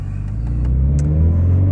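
A 2015 Subaru Forester with a non-boosted engine revs up close, a loud, steady rumbling drone that swells slightly over a short burst.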